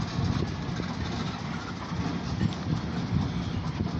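A long OC&T grain hopper freight train rolls past heading north through a freight yard in Titusville, a steady loud rumble of rail cars with faint clickety-clack throughout, with no voices.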